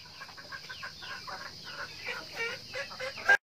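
Free-range chickens cluck and chatter close by in a busy, irregular stream of short calls, ending in one louder squawk before a sudden cutoff.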